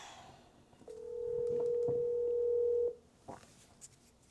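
Telephone call being placed and ringing, a single long steady electronic tone lasting about two seconds, followed by a few faint clicks on the line.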